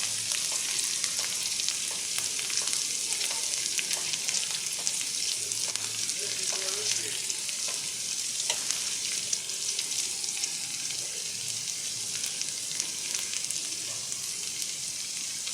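Mince and onions frying in a pan: a dense, constant bright sizzle that stays even and close throughout, with faint occasional stirring clicks and no talking.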